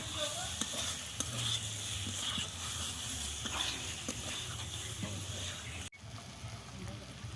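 Spices for an aloo kurma potato curry, including lightly roasted ground coriander and cumin, sizzle steadily in a pan while a spoon stirs them with repeated scraping strokes, with a brief break near the end.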